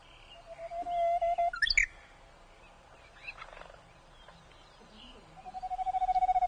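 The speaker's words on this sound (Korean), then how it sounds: "이거요? 휘파람새." A Korean bush warbler whistles a long rising note that ends in a quick flourish, then falls quiet and begins another sustained whistle, clear and fairly close.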